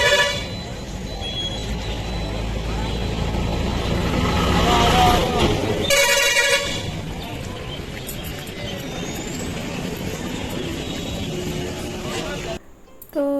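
Busy road traffic on the Karimpur side with buses and lorries streaming past, a continuous loud roar of engines and tyres with horn toots and a brief break near the end, voices mixed into the din.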